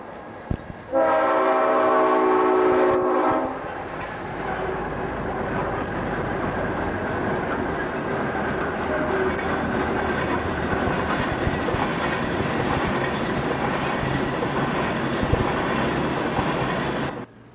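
A train horn blares for a few seconds, then a long, steady rumble and clatter of rail cars passing close by continues to the end.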